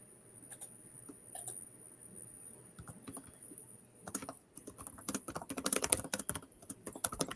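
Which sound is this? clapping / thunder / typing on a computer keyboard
typing on a computer keyboard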